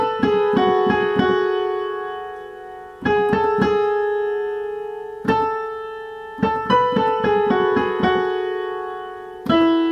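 A piano plays right-hand octaves from the song, bright repeated notes struck in short rhythmic bursts with pauses between phrases, each attack ringing and decaying, with no talking.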